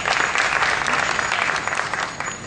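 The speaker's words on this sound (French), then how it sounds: "Je vous prie de vous applaudir très très fort," A slam concert audience applauding loudly and steadily, a dense wash of clapping throughout with no voices standing out.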